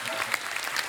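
Studio audience applause on a Hindi comedy talk show stage, a short steady burst of dense clapping close and even, with no voices over it.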